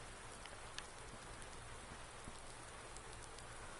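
Steady rain in the video game Farming Simulator 19 hisses as a dense, even wash, with scattered faint droplet ticks throughout and no talking.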